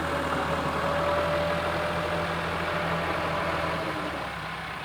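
A tractor engine running in a farm field during light drizzle, a steady low diesel rumble at moderate distance, continuous and fairly loud for the whole stretch, slightly easing at the end, with no talk.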